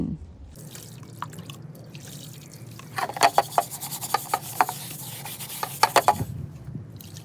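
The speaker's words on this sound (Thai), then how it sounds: "ครบเวลาแล้วเรามาล้างทำความสะอาดกันได้เลยค่ะ" The burnt bottom of a pan is washed and scrubbed, a quiet start giving way to a series of close, uneven scraping rubs with small watery drips and splashes, then trailing off.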